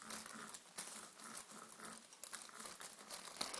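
A brayer rolls over tissue paper laid on an inked craft sheet, making a steady papery crinkling and rustling with soft rhythmic pressure pulses close to the mic.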